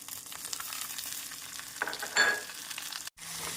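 A steady sizzle of onions and tomatoes frying in a pan, with a brief stirring scrape partway and a short dropout near the end.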